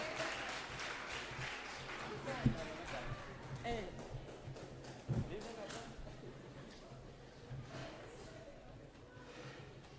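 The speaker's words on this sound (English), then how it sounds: "We can still clap for them" Crowd at a provincial debate event clapping steadily in a hall, a continuous moderate patter with a few sharper thumps, while a voice talks over it.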